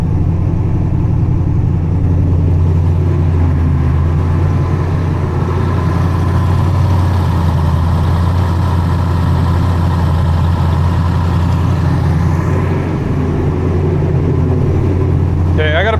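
Supercharged 5.0 V8 idling on its first start, a loud steady low rumble holding evenly throughout with a brief shift near the end; a voice talks over it.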